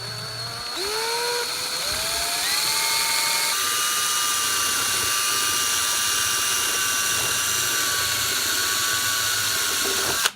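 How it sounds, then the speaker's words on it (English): A power drill spins up with a rising whine and then runs at a steady high pitch, cleaning grooves on a steering wheel, loud and close, continuing nonstop until it cuts off. "you can put this on a Dremel obviously, but you put it on a drill"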